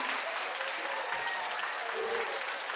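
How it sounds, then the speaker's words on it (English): Steady, dense applause from an audience at a yoga award ceremony honouring a former President, continuous and even throughout with no voices standing out. "let's give them a big round of applause"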